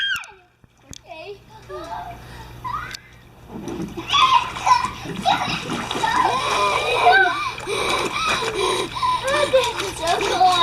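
Water splashes and sloshes continuously in cold water while children shout and talk excitedly nearby, voices rising over the splashing.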